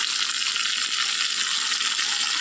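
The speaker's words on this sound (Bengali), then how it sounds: "আর অল্প নুন দিয়ে এটা খুব ভালো করে লাল করে ভেজে নেব।" Pointed gourd (potol) frying in hot oil in a pan with turmeric gives a steady, close, crackling sizzle that holds even throughout, with no talking.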